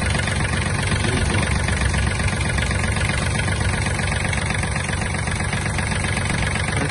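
Yanmar EF-222 Japanese mini tractor engine idling, a loud, even diesel chug with a steady knocking rhythm, close up and continuous throughout with no talk.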